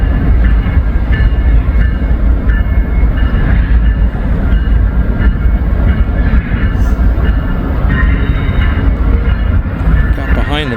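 An Amtrak train led by its locomotive rolls through Cincinnati Union Terminal with a loud, steady rumble of wheels and cars passing close by, and voices talk over it.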